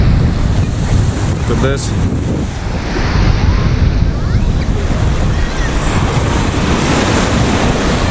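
Surf rolls in steadily on a city beach near Ajaccio, Corsica, a loud continuous wash with heavy wind buffeting the microphone, and a brief spoken remark early on.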